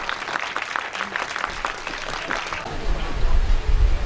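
Applause from the crowd at a mushaira in Multan welcoming the poet Asif Raza, a dense patter of clapping with voices over it that swells louder toward the end.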